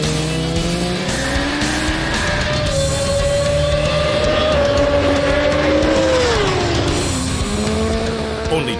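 BMW HP4 Race superbike screaming at high revs on the Estoril racetrack in Portugal, a loud sustained engine whine rising and falling through gear changes, with tyre noise and other race engines in the background.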